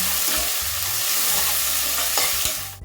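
Salted onions sizzle loudly in hot oil in a pan while browning for chicken gravy, a dense steady crackle with occasional scraping of a utensil stirring, close up.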